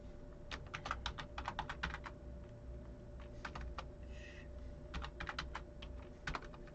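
Text typed on a computer keyboard in quick bursts of crisp key clicks separated by short pauses, close and steady over a quiet room hum.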